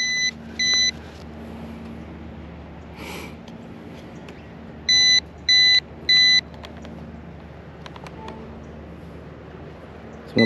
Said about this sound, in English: It starts connecting, beeping.